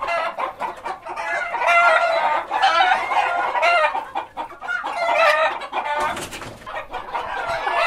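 Northern fighting roosters with trimmed combs cluck and crow loudly and close by, a continuous run of overlapping calls with no talking.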